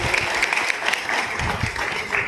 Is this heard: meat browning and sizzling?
no